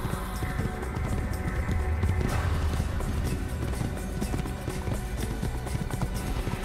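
A horse gallops in the video game Assassin's Creed, its hooves drumming in a fast, steady rhythm under a rushing, wind-like outdoor wash, with no talking.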